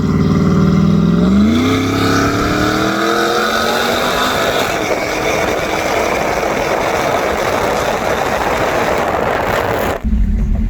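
Cammed Ram 1500 pickup truck engine revving hard, pitch sweeping upward then holding a loud, rough, choppy roar for several seconds before cutting off abruptly near the end; no talking.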